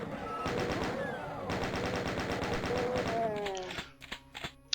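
In DOOM, a chaingun fires rapid, evenly spaced bursts, loud and close, pausing briefly partway through and then ending in a few scattered shots.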